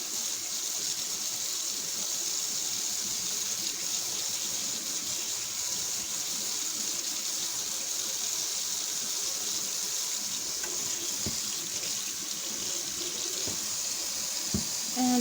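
Tap water runs steadily into a sink while makeup brushes are rinsed, a continuous close gushing stream with a few small clicks near the end.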